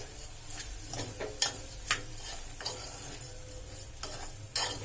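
Washed rice and mixed vegetables being stirred in a pan for vegetable pulao, with soft scraping strokes and a few sharper spoon clicks against the metal over a faint steady sizzle.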